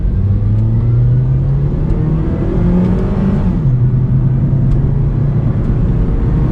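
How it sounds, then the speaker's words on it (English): An old Honda Civic with an i-VTEC engine accelerates hard, its engine note climbing through the revs, dipping at a quick gear shift and rising again, loud and close from inside the car. "Let's now do a quick acceleration run."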